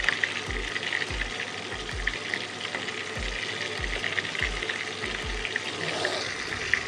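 Mushrooms frying in a pan for chili mushroom, a steady close sizzle throughout, broken by soft low knocks at irregular intervals as the pieces are moved.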